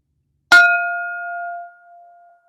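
A single bell strike signals the start of round one, ringing out loud and clear, then its bright tone decays slowly over about two seconds in an otherwise silent space.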